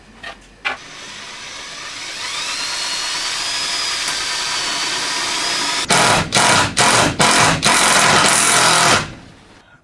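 Power drill driving screws into the metal roof of an LT35 camper van: a long, loud, steady whining run of about five seconds, then a series of short, sharp bursts with gaps between them.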